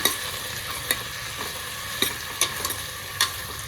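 Bottle gourd pieces and tomatoes sizzle gently in a pan while a spoon stirs them, producing intermittent scraping clicks over a soft continuous frying hiss.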